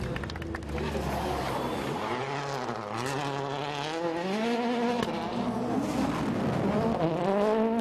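A Skoda rally car races on a WRC Portugal special stage, its engine rising and falling through gear changes in a loud, continuous wail, with a commentator talking over it.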